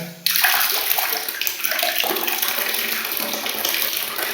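Water gushes steadily from the tap of a Havells Instanio 3L instant water heater, a loud, continuous splashing stream that starts abruptly and runs without a break.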